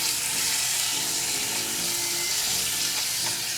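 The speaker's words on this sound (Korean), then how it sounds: "목살 300g 넣어주세요. 그리고 달달 볶아주세요." 300 g of pork neck stir-fries in two tablespoons of cooking oil in a pan on medium heat, a dense, loud, even sizzle that holds steady throughout with no voices.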